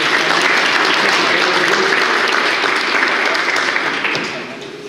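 Sustained audience applause at a rhetoric and negotiation-techniques talk, dense even clapping that holds steady and then begins to fade near the end.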